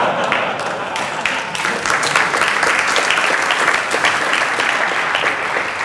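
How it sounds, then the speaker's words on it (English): Conference audience at a programming talk bursts into loud sustained applause, a dense, even clatter of many hands carrying through the whole stretch. "so there's no need to applause me."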